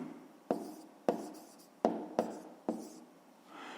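A pen writes on paper up close during a fifth-grade math exercise, tapping down five times in an uneven rhythm with a short scratchy stroke after each tap, and nobody talks.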